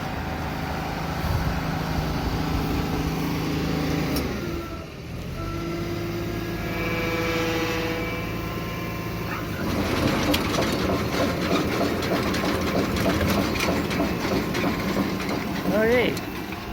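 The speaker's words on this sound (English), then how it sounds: "You gotta have the choke up, spin the starter, and put the choke down at the same time." A John Deere 2320 swather engine cranks and catches, then settles into a loud, rough, steady running drone close by, with mechanical rattling and clatter over it.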